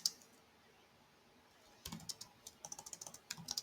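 Keys clatter on a computer keyboard as a ChatGPT prompt is typed, a quick uneven run of close, crisp clicks that starts after a short near-silent pause and keeps going to the end.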